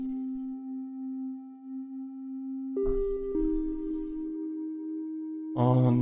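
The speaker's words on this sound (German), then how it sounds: "Machen wir den normalen Sinuston." A plain sine tone from the Bitwig FM-4 synthesizer plays as a steady, pure electronic hum. It shifts pitch in clear steps partway through and ends in a brighter, buzzier burst.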